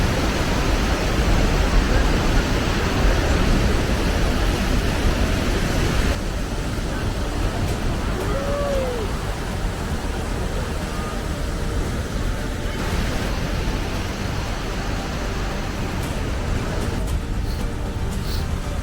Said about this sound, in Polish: Wodospad jest olbrzymi.